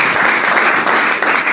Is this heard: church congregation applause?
yes